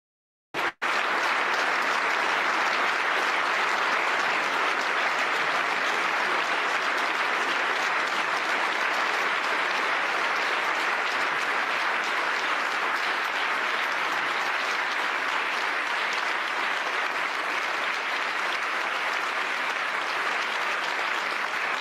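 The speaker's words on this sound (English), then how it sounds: "they didn't give this kind of applause to J.D. Vance" Large assembly audience applauding Zelensky, a sustained roar of clapping from many hands that starts abruptly and continues at full, even intensity for over twenty seconds.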